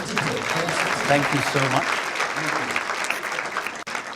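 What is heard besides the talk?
audience applause for guests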